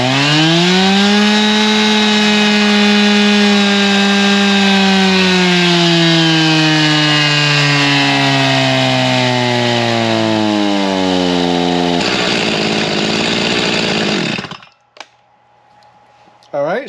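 A chainsaw fitted with a swapped carburetor revs loud and close, pitch sweeping down and then settling, before cutting off abruptly near the end and leaving near silence.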